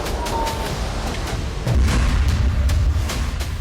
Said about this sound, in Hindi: जबालिया कैंप में हमास के लड़ाकों ने इजरायल के मरकावा टैंक को धमाके में उड़ा दिया